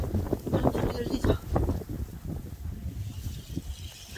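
Strong wind buffets outdoors on a cold winter day, roaring and gusting in low rumbling bursts against the microphone throughout, loudest in the first half and easing somewhat later.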